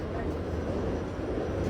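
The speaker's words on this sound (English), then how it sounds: "This is a D train via the F line." Subway D train running on the F line toward Coney Island, a steady loud rumble of the car in motion throughout, with low muffled noise and no clear speech.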